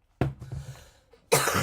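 Two heavy, harsh coughs from a person with severe asthma, close and loud, separated by a short wheezy pause.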